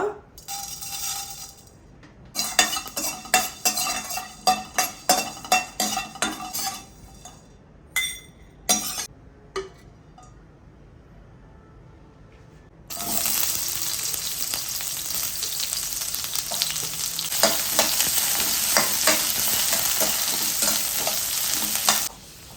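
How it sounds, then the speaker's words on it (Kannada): Fresh coriander frying in a pan: a spoon stirs and scrapes with clinks, then a steady loud sizzle takes over for the second half, close up. "ಈ ಹಸಿ ಕೊತ್ತಂಬರಿನ ಯೂಸ್ ಮಾಡಿ I am going to fry it ಒಂದು ಸ್ವಲ್ಪ"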